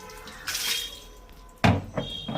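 A dog is bathed with Sunsilk shampoo under running water, heard as close splashing and dripping with two louder bursts of water against low background flow.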